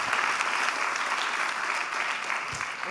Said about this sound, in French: On peut l'applaudir, franchement c'est un mec génial.